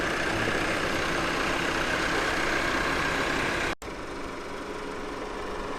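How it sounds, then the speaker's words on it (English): A large farm generator that powers the barn's milk unloaders, vacuum pump and milking system runs at a steady, loud drone. A brief break near the end is followed by the same continuous engine noise. "the bigger generator we use to run the barn runs the unloaders and the milking system"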